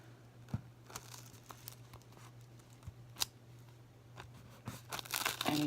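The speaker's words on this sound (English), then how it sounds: "pull it up. See, it's already starting to get tacky, and it's lifting from the wax paper onto the top of the pad" A homemade notepad being peeled up off wax paper, its tacky glued edge lifting with soft crackling and tearing sounds and scattered sharp clicks, quiet and close over a low steady hum.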